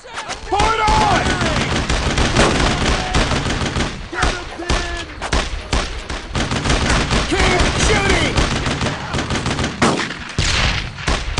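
Dense, continuous gunfire fills a World War II battle in the video game Brothers in Arms: Road to Hill 30, with rapid automatic bursts and single shots layered loudly throughout while soldiers shout over the din.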